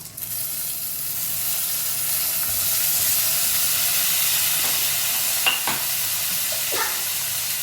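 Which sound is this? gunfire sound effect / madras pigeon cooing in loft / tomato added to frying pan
tomato added to frying pan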